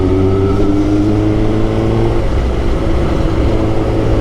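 A Suzuki GSX-R 1000 sport motorcycle engine hums and revs steadily while riding, a loud continuous drone with slight pitch shifts heard from on board.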